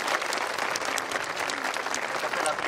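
An audience gives a brief, steady round of applause for a student color guard at a school ceremony; crowd clapping stays dense and close, with a voice faintly present beneath it.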